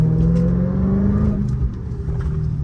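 A 2021 Dodge Charger SRT Hellcat Redeye's engine accelerates in a continuous loud, deep roar with a rising growl, heard from inside the car during a drive.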